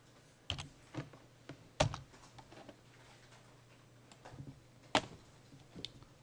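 Sparse keystrokes on a computer keyboard while setting up AutoCAD, quiet close taps spaced irregularly with a few sharper presses and a faint low hum beneath.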